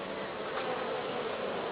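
Honeybees hum steadily at a hive entrance as they bring in pollen, a dense, continuous buzzing swarm close by.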